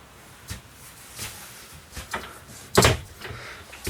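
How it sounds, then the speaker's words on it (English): Pantry door in a 2014 Forest River Cherokee 274DBH camper trailer, faint soft knocks and light clatter as it is handled, ending in one sharper thump of the door closing in a quiet interior. "Nice big door on your pantry."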